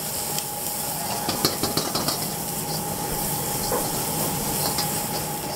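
Cabbage, carrot, capsicum and onion sear in a pan over a high flame, giving a steady loud sizzle and hiss with a few stirring clatters, close and without talk.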